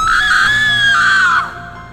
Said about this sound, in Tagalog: Tapos may sumigaw.